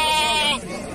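A lamb at a sheep market in Fuzuli gives one loud, close, wavering bleat that trails off after about half a second, with a voice talking around it.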